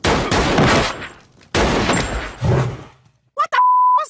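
Cartoon gunfire from an animated blaze wielding a gun: loud bursts of rapid shots in two volleys, followed by a short hit and a bright ringing ding.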